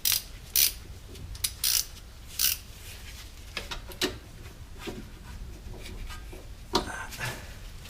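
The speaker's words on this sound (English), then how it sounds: "actually I'm going to use a real ratchet for that." Short, sharp clicks of a ratchet tightening a bolt on a Honda Civic brake assembly, in brief irregular bursts against a quiet garage background with faint handling noise between them.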